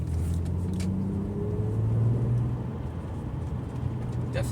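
An Acura CL/TL Type-S with a Comptech Icebox intake drives along, its engine drone steady under road noise, with a brief rising tone as the revs climb and a voice speaking over it.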